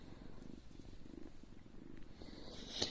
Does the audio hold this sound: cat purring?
yes